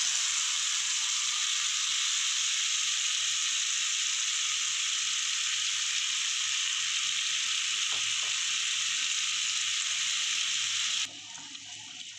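Taro stolons and chopped potato frying in hot oil over a low gas flame give a steady, even sizzle that lasts throughout, with faint stirring clicks near the end and a quieter, thinner hiss in the final second.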